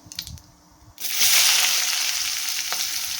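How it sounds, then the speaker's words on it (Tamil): After a brief quiet clatter, a loud steady sizzle of chopped large onions frying in a hot pan starts and keeps going. "பெரிய வெங்காயம் ஒன்று எடுத்து சின்னதாக கட் பண்ணி தாளிக்கிறதுக்கு போட்டிருக்கேன்."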